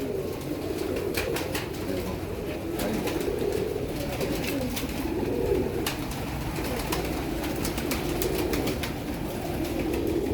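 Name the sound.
flying pigeons cooing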